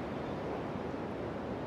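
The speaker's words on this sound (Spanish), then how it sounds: "significa que la ola rompe, hace espuma" Ocean waves break and foam on a New Zealand surf beach, a steady rushing wash of surf with no pauses and no voices.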